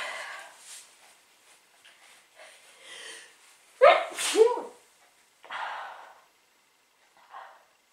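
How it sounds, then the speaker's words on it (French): One sharp, forceful sneeze erupts midway, surrounded by quiet breaths and soft vocal sounds. "putain j'ai mon Hachoum, il est encore là"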